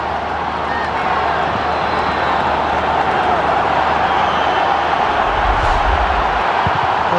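A dense Gaelic football crowd roars at Croke Park in Cork v Mayo, a loud, unbroken wall of stadium noise with a commentator's voice riding over it.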